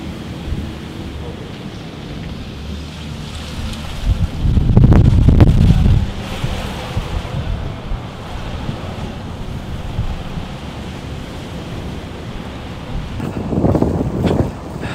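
Strong gusty wind from Hurricane Henri buffets the microphone on a beach where surf rolls in, with a loud rumbling gust midway and another near the end, no speech.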